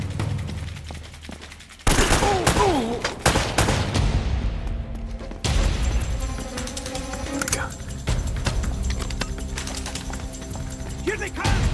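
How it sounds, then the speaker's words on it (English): Dense video game gunfire from Uncharted: Drake's Fortune rattles on continuously with rapid automatic bursts and single shots mixed with game effects, loud and close, with brief character speech in between. "They're shooting at you too, you know."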